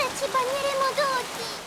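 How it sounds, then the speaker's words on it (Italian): Cartoon rain in Peppa Pig begins falling as a soft, steady patter, brief and close, under a bright melodic musical phrase with no talk. "Comincia a piovere."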